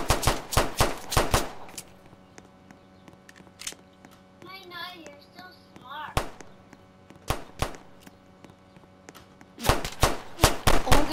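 Video game gunfire in a gang-wars shooter: sharp bursts of rapid shots open the clip, a few isolated single shots follow through a quieter middle with faint chirping and talk, then another dense volley closes it.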